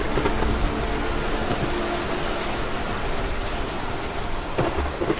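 Heavy rain falls steadily under a low continuous rumble of thunder during a rainy-season storm on Mount Slamet, a dense, loud wash of noise with a brief sharper crack near the end.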